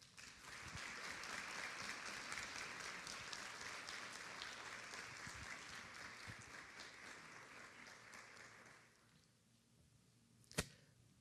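Audience applause welcoming a speaker at an education and technology conference in Honduras, a dense, steady round of clapping that fades out after about nine seconds, followed by a single sharp knock.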